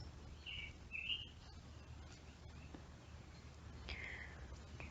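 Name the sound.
birds chirping outdoors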